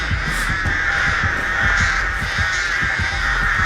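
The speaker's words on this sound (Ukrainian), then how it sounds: "Коли ці ворони від мене відстануть." Crows caw repeatedly in the video game Dead by Daylight, loud, close and persistent rhythmic calls over a steady droning ambience, with no talking.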